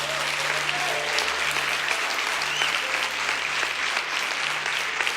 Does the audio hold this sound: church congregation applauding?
yes